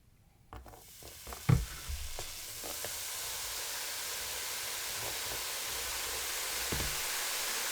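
Cleaning solution being mixed for a smoke-damaged switch: a few clinks and knocks at first, then a steady fizzing hiss that carries on evenly to the end, fairly quiet.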